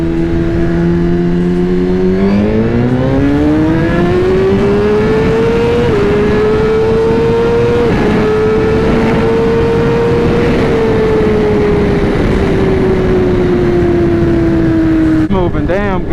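A Suzuki GSXR 1000-R motorcycle pulls wide open in second gear, its engine note climbing loudly and steadily through the rev range with a brief step, then easing off; a voice speaks beneath the roar.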